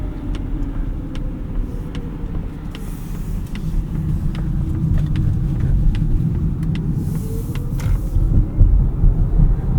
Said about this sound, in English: It's just kind of electric motor sound.